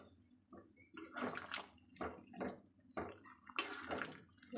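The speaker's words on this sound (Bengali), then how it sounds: "একটু গরম জল আমি কেটলি করে রেখেছি এবার আমি এটা দিয়ে দেবো" Hot water from a kettle poured into a thin meat curry in a pot, heard as several separate close splashing, gurgling pours with short pauses between them.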